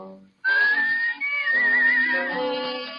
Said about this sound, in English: Oh, God, he's whistling?